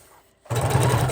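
A sewing machine zigzag-stitches lace and ribbon for a miniature junk journal, starting abruptly after a brief quiet and running as a steady, close, rapid mechanical whir.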